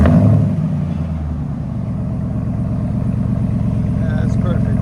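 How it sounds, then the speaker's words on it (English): A Ram 1500 pickup with a 5.7L Hemi V8 on a true dual exhaust with 6-inch tips rumbles close by, a brief louder rev at the start settling into a steady deep, throbbing engine drone. "Can't beat that Hemi sound"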